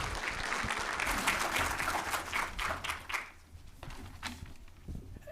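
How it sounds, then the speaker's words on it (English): Audience at a community forum in Canberra applauding as a speaker is invited to the stage, dense crowd clapping that thins out toward the end with a few scattered claps and light footsteps. "give him a round of applause"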